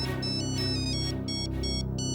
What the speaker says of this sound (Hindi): घर से फोन?